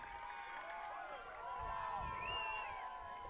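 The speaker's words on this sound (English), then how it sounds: "But the Clover fans cheering" Cloverdale football fans cheer in the stands during a high school game against Edgewood, a distant, steady roar of crowd noise with a few raised voices rising briefly.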